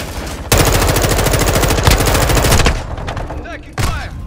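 Sustained automatic weapon fire in the mobile shooter Call of Duty Mobile, a loud rapid burst lasting about two seconds, then scattered shots and a final short burst, close and dominant.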